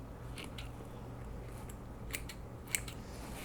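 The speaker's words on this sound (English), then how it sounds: "then you want to cut down your wrapped yarn here to free it all up" Scissors snipping through wrapped yarn while making a tassel: a few crisp, close cuts over a steady low background hiss, the last one sharpest, with no talking.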